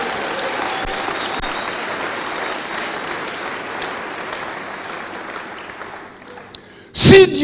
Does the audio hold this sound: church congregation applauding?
yes